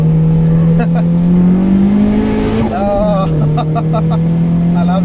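A Nissan 200SX with a turbocharged SR20DET engine pulls hard uphill, its loud, close engine drone climbing in pitch, then a brief dip with a fluttery turbo chatter before the note settles and builds again, with cabin voices underneath.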